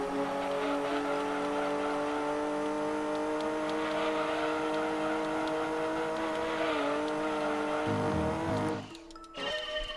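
The Europa race car in Gran Turismo 2 drones loudly with a sustained high engine whine that holds steady and then drops away near the end, with faint tire squeal alongside.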